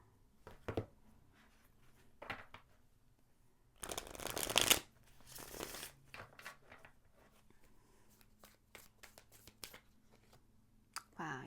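Tarot cards are shuffled for a card reading in quiet, close bursts of riffling and flicking, with a louder flurry near the middle and scattered soft slaps between.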